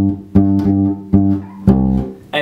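Bass guitar playing a short run of punchy shot notes out of the solo in a bass part, four separate sustained attacks with strong low harmonics, close and alone.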